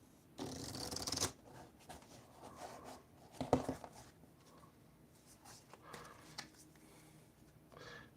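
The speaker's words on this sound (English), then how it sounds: "So let's go ahead and shuffle up." Regicide playing cards are riffled in a burst near the start, followed by quieter handling, tapping and squaring of the deck, close and otherwise quiet with no speech.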